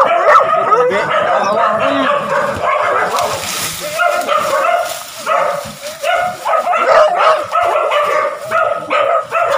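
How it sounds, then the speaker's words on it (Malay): Dog barking outdoors during a wild boar hunt in Simawang, repeated yips and barks with some whimpering, fairly close and loud, mixed with people talking and a faint splash of water. "Anjing di luar."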